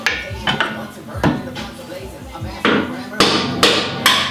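A hammer striking a stuck bolt and washer on a Mazda Miata, a series of loud, sharp metallic blows in an uneven rhythm, close by, with some talk mixed in.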